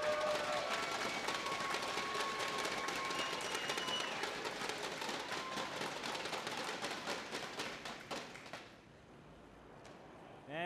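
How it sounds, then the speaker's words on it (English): An audience cheers and claps at the WGLNA Season 1 esports finals, a dense, rapid spatter of applause and crowd noise that fades away over the last few seconds. "Give a cheer if you want them to come back."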